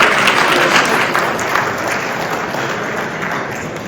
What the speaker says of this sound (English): a big applause for this wonderful organization.